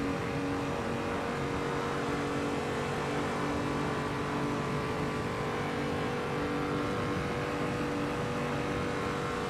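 BMW 235i racing-game engine droning steadily on the Nordschleife, a continuous loud motor tone with sustained harmonic layers and no clear breaks, running alone without talk.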